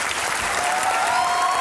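Studio audience applause for a Pakistani cricket legend arriving on a comedy talk show, a dense, steady burst of clapping filling the room with no voices over it.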